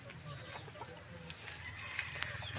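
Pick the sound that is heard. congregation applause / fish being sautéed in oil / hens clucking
hens clucking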